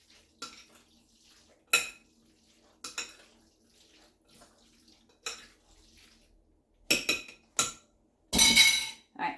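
A utensil mixes tuna casserole ingredients in a dish: sparse, irregular clinks and scrapes against the container with quiet gaps between them, then a louder, longer scraping burst near the end.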